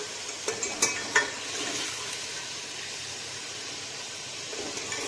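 Cinnamon sticks added to hot oil with beef for nehari sizzle steadily, with a few sharp pops and clinks early on and then an even hiss, close and without talk.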